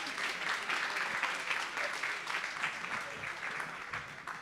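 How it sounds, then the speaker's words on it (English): An audience at a Montreal technology park event claps to welcome a speaker, a continuous wash of applause at moderate level throughout. "please give a warm welcome of applause to Mike Lee"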